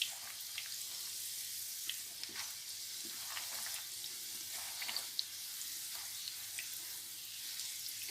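Puri frying in hot oil gives a continuous soft sizzle with small crackling bursts, steady and close, without any talking.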